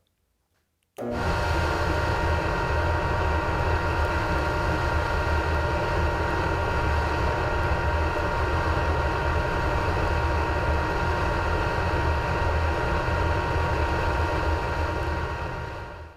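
A Laguna Tools P|Flux 3 cyclone dust collector switches on abruptly after a second of quiet, then runs with a loud, steady, close roar and whine for the rest of the clip, tapering slightly at the very end.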